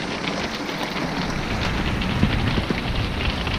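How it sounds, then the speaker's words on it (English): Hail falling hard outside an older RV, a steady dense patter of pellets with scattered sharper ticks, loud and continuous with no talk. "It is hailing like crazy."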